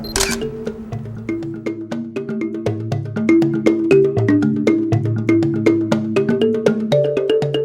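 A Nikon or Canon DSLR shutter clicks again and again while exposures are bracketed indoors in window light, the sharp regular snaps sitting over steady melodic background music.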